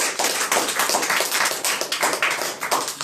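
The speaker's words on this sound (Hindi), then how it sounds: "जो ताली हो जाए परमेश्वर के लिए" A congregation at a church sermon applauds, a loud, dense run of many hands clapping together in quick, uneven bursts for about three seconds with no talking over it.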